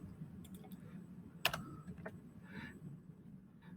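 A few faint, sparse keystrokes on a computer keyboard, with one sharper click standing out, typing a value into CAD software during a quiet stretch with no talking.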